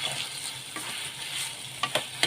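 Tamarind and tomato frying in a pan with a soft, steady sizzle and some light stirring, plus a few brief scrapes near the end.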